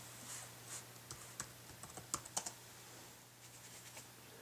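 Someone types a password on a Mac keyboard in a quiet room. Faint, irregular keystroke clicks come in small clusters over a low steady hum.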